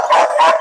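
A small dog gives two quick, high-pitched yips close by, each a short bright burst with a brief gap between them, heard alone without talk.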